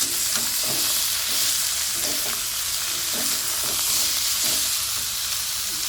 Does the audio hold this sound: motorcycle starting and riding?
no